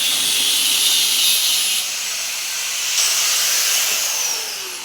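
Metal being cut during welding work gives a loud, continuous hissing roar that holds steady for about five seconds, then eases slightly at the end, with no voices.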